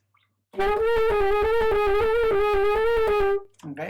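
Saxophone plays a slow sustained note with a slight wavering pitch, a chromatic passage using flop fingering, alone, followed by a brief voice at the end.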